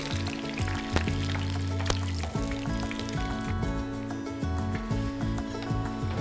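Yam vadas deep-fry in hot oil, a continuous bubbling sizzle heard up close, with steady tonal music playing loudly over it throughout.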